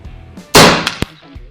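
A single sharp, loud shot from an Effecto Spark Mini 5.5 mm air rifle, a sudden broadband crack followed by a brief decaying tail and a second smaller click, against a quiet background.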